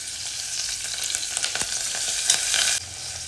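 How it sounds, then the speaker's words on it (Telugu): Green chilies and curry leaves frying in hot oil: a steady, close, dense sizzle with scattered crackles and pops throughout, no voices. "కట్ చేసి పెట్టిన మూడు పచ్చిమిరపకాయలు వేసుకోవాలి ఒక రెబ్బ కరివేపాకు"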